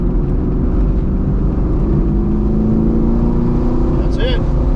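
A BMR-equipped sixth-generation Camaro pulls hard on a road course, with a loud steady engine drone from inside the cabin. A short higher whine rises near the end and voices are mixed in.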